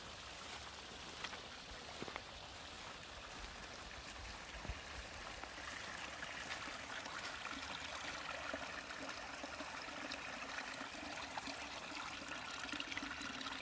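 Rainwater overflowing from a farm pond, a steady faint trickling and streaming wash of running water, continuous and fairly distant with no voices.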